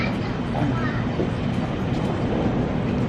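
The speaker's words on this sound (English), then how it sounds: "I love this double-decker train." Continuous rumbling of a double-decker train in motion in Sydney, a dense low roar with rattling, heard from inside while people talk over it.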